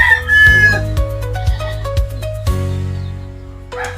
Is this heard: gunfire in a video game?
no